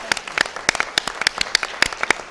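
A small town hall crowd gives scattered, sparse clapping, individual claps distinct and fairly close, lasting only a couple of seconds.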